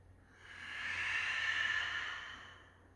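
One long, slow exhale during a yoga class, an airy hiss that swells gently, holds and fades over a few seconds, close and alone.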